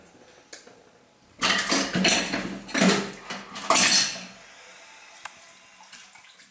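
Dishes are washed by hand under a running kitchen tap, with a burst of flowing water and clinking plates and cutlery close by for a few seconds, then quieter handling.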